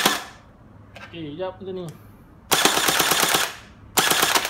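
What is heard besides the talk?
RX AKM47 toy blaster firing in full auto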